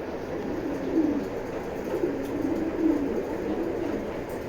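Young pigeons in a breeding loft coo in soft, low, repeated calls, several rounds in a row over a steady background hiss.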